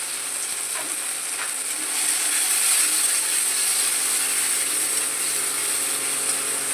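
Arum root paste fries in hot oil just after chili powder goes into the pan, giving a steady, dense sizzle that swells slightly partway through and continues unbroken.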